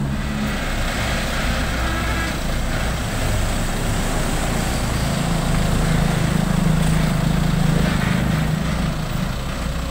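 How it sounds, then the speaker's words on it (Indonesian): A FAW JH6 460 HP Chinese tractor head truck runs nearby in gloomy weather, its diesel engine giving a loud, steady rumble that swells slightly toward the end, with no talk. "Panjang truk ini, guys."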